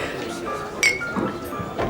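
Glasses clink together in a toast, one bright short chink near the middle, amid the murmur of people talking.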